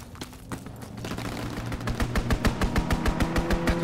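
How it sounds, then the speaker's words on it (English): Strafing-run gunfire in Call of Duty WWII, a fast, even stream of machine-gun shots that builds in loudness and keeps up a steady rapid rhythm. "Strafing run inbound!"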